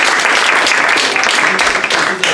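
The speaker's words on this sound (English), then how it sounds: "please join me in thanking Dave for coming down" Audience applause closes a university colloquium talk on socio-environmental synthesis, a dense, steady burst of clapping from a seated crowd lasting a couple of seconds without a break.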